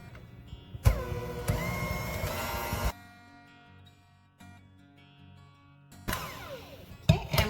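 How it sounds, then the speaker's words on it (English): Rich chocolate cake batter with vanilla extract is being mixed, a loud whirring mechanical drone in two long bursts separated by a quieter pause. "And let's mix."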